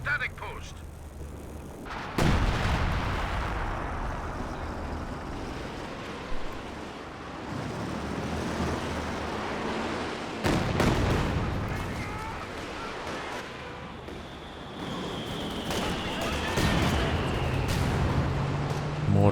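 Mortar and artillery fire in the World War II strategy game Company of Heroes: heavy booms land at intervals over a constant roar of battle, with a few sharper blasts standing out from the din.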